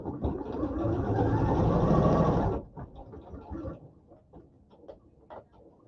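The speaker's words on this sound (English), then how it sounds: "I am going to take a moment to serge around this pocket" A serger sewing machine runs steadily around a pocket in a sewing session, a loud continuous mechanical whir lasting about two and a half seconds before it stops, leaving quieter handling noises afterward.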